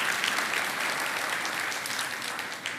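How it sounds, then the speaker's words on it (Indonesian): A church congregation claps together in a steady, fairly soft wash of applause that runs throughout, a little distant and with no voices over it. "Kasih tepuk tangan, love you."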